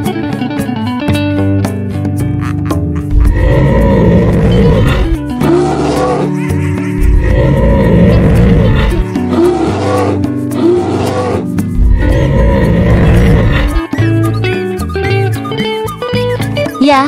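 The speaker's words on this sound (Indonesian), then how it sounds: "Ya, ini adalah beruang." A bear growls and roars loudly over and over for well over fifteen seconds, the deep, rumbling calls filling the space with only brief breaks between them.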